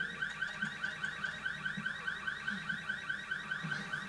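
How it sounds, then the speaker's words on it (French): An alarm in the video game Resident Evil 6 on PS3: a rapid, repeating electronic warble like a car alarm that cycles steadily and evenly without pause, fairly loud with no talking. "et là, il y a l'alarme"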